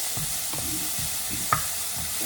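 Spices sizzling in a pan for egg biryani, a steady close frying hiss with soft stirring scrapes and one sharp tap partway through.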